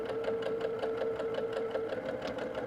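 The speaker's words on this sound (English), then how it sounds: "I'm going to lower that presser foot, and then I'm going to start to sew" A home sewing machine stitches a quarter-inch seam on quilt coaster fabric, its needle chattering in a fast, steady rhythm with a constant motor whine, close and alone.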